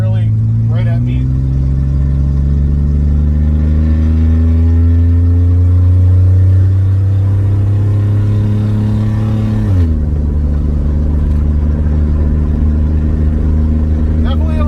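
A GMC Sonoma truck engine revs up steadily on an interstate on-ramp, a smooth rising drone that climbs for several seconds, then drops sharply with a gear change and settles into a lower hum with road noise.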